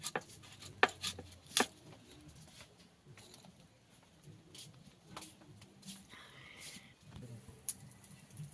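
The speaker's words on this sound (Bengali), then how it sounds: "প্রথমে চালতাটা কেটে নেব, চালতাটা পুরো কেটে নেব" Elephant apple (chalta) cut with a knife in a rural kitchen, a few sharp knife strikes early on, then softer scattered cutting and handling noises at low volume.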